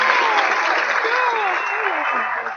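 Loud, continuous crowd applause and cheering on a radio show, a dense wash of clapping with voices whooping and shouting over it, close and sustained before easing slightly at the end.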